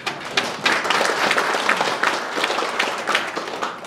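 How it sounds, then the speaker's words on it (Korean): Applause from the audience at a city council opening ceremony as former council members are introduced, a dense, continuous patter of many hands clapping for a few seconds, fairly close and even. "뜨거운 박수로 환영을 좀 해주셨으면 감사하겠습니다"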